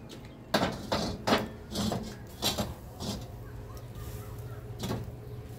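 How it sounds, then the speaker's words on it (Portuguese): A cooking pot is set down on a stove in a farmhouse kitchen. There are several close clanks and knocks of metal on the burner, with a low steady hum underneath. "Agora nós vamos aqui para o fogão. Vamos botar essa panela aqui."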